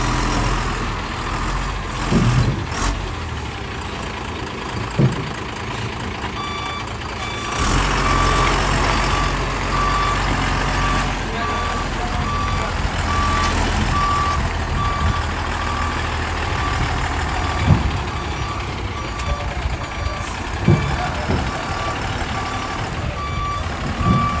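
A truck reverses into loading position for a fish load, its reversing alarm beeping steadily and repeatedly over a low engine rumble, with occasional sharp knocks and hisses; no voices.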